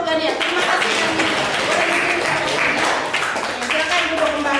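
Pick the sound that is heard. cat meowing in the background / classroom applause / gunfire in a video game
classroom applause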